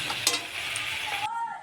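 Vegetables with eggplant frying in a pan, a steady hiss of sizzling oil with a brief stirring clatter, cutting off abruptly near the end.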